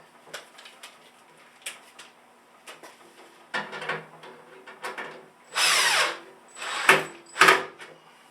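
A power drill drives bolts into the threaded base of a Craftex CT053 1 HP dust collector, with short bursts of whirring, then longer loud runs near the end, separated by quiet pauses.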